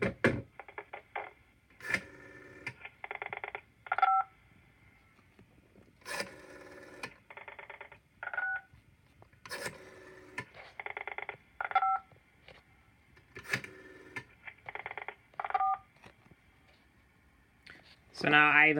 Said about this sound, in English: So those are tones that PBX is producing.